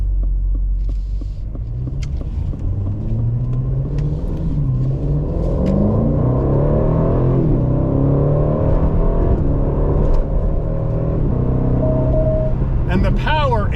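A 2024 Aston Martin DB12 pulls out and accelerates down a highway, its engine rumbling and rising steadily in pitch from inside the cabin, with tyre and road roar beneath and someone talking over it.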